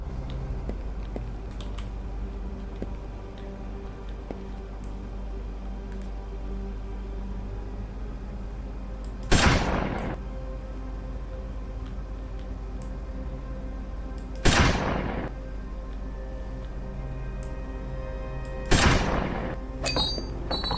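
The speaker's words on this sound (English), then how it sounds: "There you heard it. The pin was pulled, and you can quickly step away from the grenade." A grenade pin pulled in a sniper game, heard as three sharp, brief clicks spaced several seconds apart over a steady low background hum, each crisp and close.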